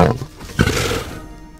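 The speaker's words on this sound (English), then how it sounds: "So the lion makes a roaring sound." A lion roars once, a deep, loud rumble that swells and then fades, standing alone after a brief sound at the start.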